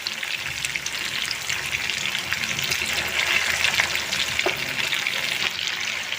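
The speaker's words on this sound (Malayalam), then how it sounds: "ഇനി ഞാനിത് മൂടി വെച്ചിട്ട് ഫ്രൈ ചെയ്തെടുക്കുകയാണ്" Chicken pieces for restaurant-style Chicken 65 frying in oil in a covered pan, a steady dense sizzle with crackling pops throughout, close and even.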